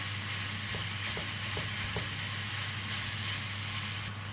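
Minced meat cooks in a dry pan with no oil, giving a steady close sizzle throughout, with a few soft scraping taps as it is pressed and stirred.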